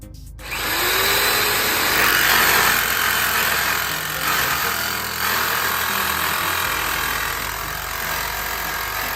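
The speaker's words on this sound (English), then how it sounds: "through with a jigsaw and cut this piece off" Jigsaw fitted with a metal-cutting blade sawing through a metal ceiling panel, a loud continuous harsh buzz that starts abruptly after a brief moment and runs steadily to the end, close and alone.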